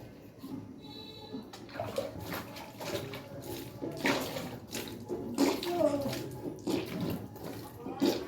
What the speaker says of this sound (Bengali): জল নেই কলে, জল চলে গেছে। ওই দেখ এখন আসলো।